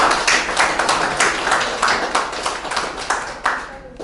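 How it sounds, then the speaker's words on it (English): Audience clapping and applause at a participant certificate event, a dense, steady patter of many hands that holds at a fairly loud level and tapers slightly at the end. "Let's give her another round of applause."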